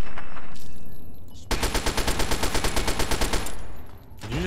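Submachine gun fire in Fallout 3, a sharp rapid burst of evenly spaced shots lasting about two seconds, loud and close, followed by a fading tail.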